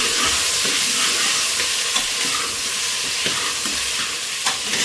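Eggplant and potato pieces being stirred into a pan of sambar, a steady hiss and sizzle with soft scraping strokes, close and continuous with no talk.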